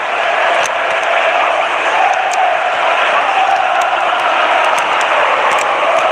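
Stadium crowd noise in the eFootball 2021 video game, a broad, steady roar of cheering that stays loud and even throughout, with faint sharp ticks above it.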